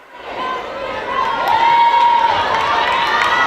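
Fans in a gym at a high school volleyball match cheer and shout, the noise swelling from quiet into a loud sustained roar with high voices and whistle-like tones.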